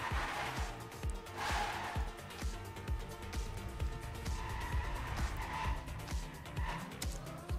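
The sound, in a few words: race car speed drift and tire skid in racing video game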